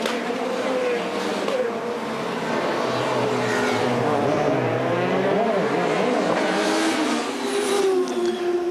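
SEAT touring cars race in the WTCC round at the Macau street circuit, engines roaring loud and continuous as they rev and shift, with a commentator talking over the racing noise.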